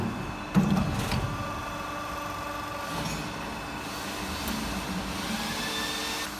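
A DW38CNC hydraulic CNC pipe bending machine runs with a steady mechanical hum and whir, a sharp clunk near the start as it clamps, and faint squeaks and shifting tones as the pipe is bent around the die.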